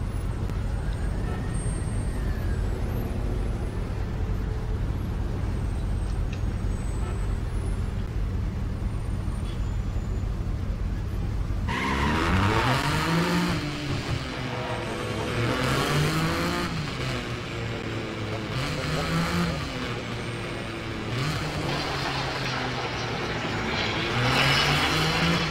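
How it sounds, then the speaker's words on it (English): Lamborghini Miura with a rear-mounted 4-liter V12 starts up partway through and runs loud and close, with repeated rising and falling revs after a stretch of quieter background rumble. "So this car is known for its V12 voice."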